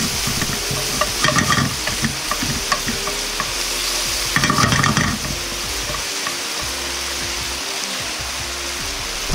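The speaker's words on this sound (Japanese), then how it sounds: "野菜全体に油が絡まるように炒め合わせます。" Vegetables stir-fried in oil in a wok for black fried rice make a steady loud sizzle with bursts of scraping and tossing, the hiss running continuously throughout.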